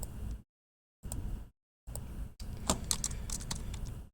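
Typing on a computer keyboard during a precalculus review, heard as close, clicky key taps in separate bursts broken by silent gaps, ending in a longer run of busier tapping.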